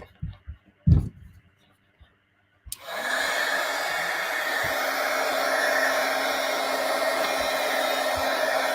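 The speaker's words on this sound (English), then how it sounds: "Heat gun." A heat gun switches on after a few clicks and quiet handling, then blows a steady, loud, broadband hiss that holds for several seconds at a live craft demo.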